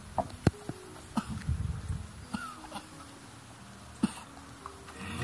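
Several short, sharp coughs scattered across a few seconds, fairly close, with quiet background noise between them and no talking.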